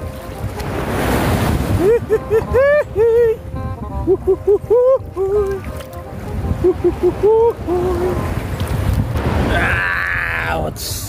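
Small low-tide sea waves washing in at a beach, a steady rushing surf with wind buffeting the microphone, while someone speaks intermittently over it and a brief splashy burst comes near the end.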